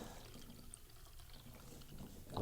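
Ordinary tap water pours into a container at a faint, low level, a soft trickling wash that swells a little louder at the very end.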